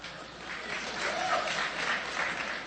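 A crowd at Berkeley gives scattered, light applause, a steady patter of many hands that rises slightly and fades, heard somewhat distant with no voices on top.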